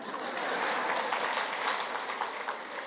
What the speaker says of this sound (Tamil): இப்போ நீங்கள் இங்கே கை தட்டுறீங்கல்ல